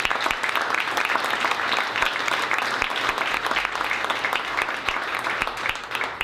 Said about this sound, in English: So I just want to give a round of applause to the current Thunder staff